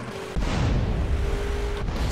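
Loud, continuous rumbling explosions in GTA San Andreas with heavy low-end boom, starting abruptly after a brief quieter moment and sustaining throughout.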